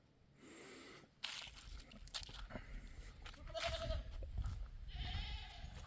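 Goats on an off-grid homestead bleat and scuffle close by, with crunching footsteps and a few short calls scattered over several seconds and a faint voice now and then.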